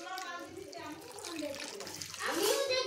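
Water poured into a pot of curry leaf masoor dal, a broad splashing rush swelling near the end under a woman's ongoing speech.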